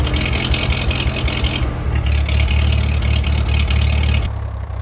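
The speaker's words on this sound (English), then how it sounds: "give it a test fire and see how" Farmall tractor engine idling steadily after a tune-up with exhaust and air intake refitted, a loud, continuous low rumble with a steady rhythmic chug that cuts off sharply near the end.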